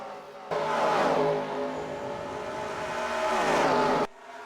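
Race car engines roar in the NASCAR Racing 2003 video game at Texas Motor Speedway, a loud sustained whine of a car passing close with rising and falling pitch before cutting off abruptly.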